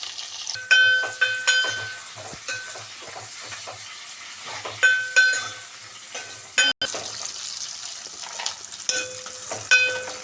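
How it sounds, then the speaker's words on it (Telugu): Green chillies, onion and curry leaves frying in oil with cumin in a pan for a bitter gourd stew, with a steady sizzle broken by repeated scraping stir strokes at close range, with no talk. "పచ్చిమిర్చి ఉల్లిగడ్డ కరివేపాకు మూడు వేసేసిన ఇప్పుడు కలుపుతా"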